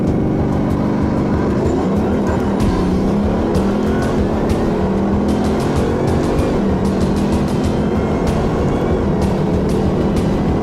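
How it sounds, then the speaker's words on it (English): A 2011 Bugatti Veyron Super Sport rated at 1,200 horsepower accelerates at full throttle, its engine roaring loud and steady with a pitch that climbs through the gears over a constant rush of road and wind noise. "I'm about to put the throttle all the way down for the first time."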